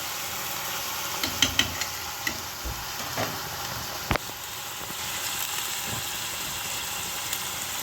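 Meethi herbs sizzle softly in a pan with ripe and green chilies, garlic and a pinch of black pepper, a low steady frying hiss broken by a few clinks and stirring knocks, no talking.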